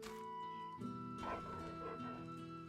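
Small dog whimpering and yipping in Final Fantasy XVI, a few short high whines close by over a steady game music bed with sustained tones.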